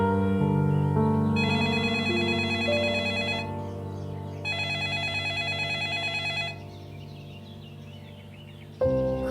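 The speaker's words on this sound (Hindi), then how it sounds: "अभी अम्मी फोन उठा नहीं रही है" A telephone rings unanswered with an electronic ringtone, two loud repeated ringing bursts over a sustained tonal melody, then cutting off abruptly near the end, with no talking.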